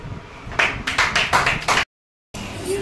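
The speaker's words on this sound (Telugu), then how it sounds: "క్లాప్స్" Children in a classroom clap in a brief burst of about six quick, loud claps, followed by a short silence and then room noise.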